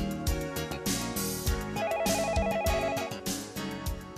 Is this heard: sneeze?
no